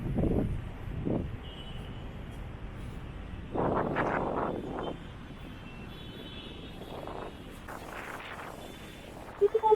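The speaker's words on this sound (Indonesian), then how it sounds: "Anginnya kenceng banget." Strong wind gusting across the open rooftop of Sarinah Community Mall, heard as low, rumbling buffets against the microphone that come and go in bursts over a quiet background.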